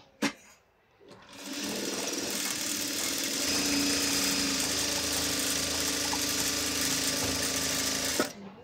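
A sewing machine runs fast and steady while stitching the opening of a salwar, a continuous close mechanical whir that starts after a brief click and carries on for several seconds before stopping abruptly.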